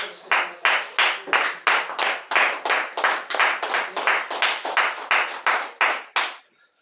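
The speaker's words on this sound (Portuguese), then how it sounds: "Pode se assentar e aplaudir ao Senhor que merece." A church congregation claps along to praise in an evangelical service, about twenty sharp, evenly spaced claps in a steady rhythm that stop abruptly at the end.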